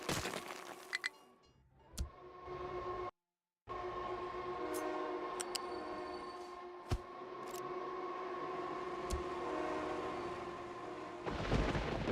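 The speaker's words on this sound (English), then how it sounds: "Now there's a lot of trains trying to come in here." Trains arriving at a busy rail junction in the factory-building game Captain of Industry, heard as a steady mechanical rumble with sharp clanks and cracks scattered through it and a brief dropout partway.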